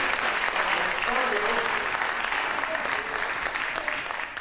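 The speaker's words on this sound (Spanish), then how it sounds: "¿Cuánto les da un aplauso al Señor?" A church congregation breaks into loud sustained applause for the Lord, a dense wall of clapping with some voices mixed in that eases slightly toward the end.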